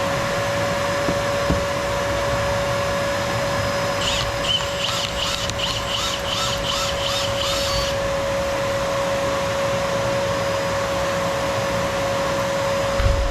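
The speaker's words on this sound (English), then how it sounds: "I'm going to put my vacuum on, because I don't know about that fitting under there" A vacuum cleaner runs steadily during a sweep of an open fireplace's old brick flue, catching soot dust in a constant loud whine. A brief series of chirps sounds partway through.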